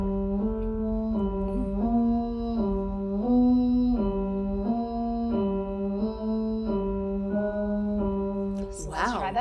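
A singer does a straw phonation exercise, humming through a straw in a steady chromatic pattern that steps up a third and back down. The pitch moves in small, even steps with a buzzy, muffled tone, ending with a brief breathy burst.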